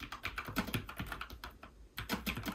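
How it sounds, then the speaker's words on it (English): Keys clatter in quick, uneven bursts on a Logitech MX Mechanical keyboard with tactile quiet switches, close and fairly soft, with a short pause midway before the typing resumes. "I chose the tactile quiet so I could have that mechanical feeling when typing, but wanted the quieter option."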